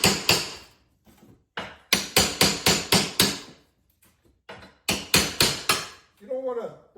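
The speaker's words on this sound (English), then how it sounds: "Just work around the top of the tile to kind of break it loose from the drywall." Tool hammering and prying tile loose from drywall around a fireplace, sharp close knocks in quick bursts of three to five with short pauses, a brief voice near the end.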